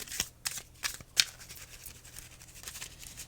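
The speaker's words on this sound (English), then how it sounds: "Now I'm going to turn this bunch around and we're going to shuffle this way." A tarot deck being shuffled by hand, giving a close run of papery riffles and slaps with a few sharper card snaps. No voice.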